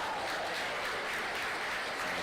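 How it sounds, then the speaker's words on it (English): Crowd applause at an MLS Next Pro soccer match between Whitecaps FC 2 and Timbers2, a steady wash of distant clapping from the stands lasting a couple of seconds. "And appreciation from the crowd"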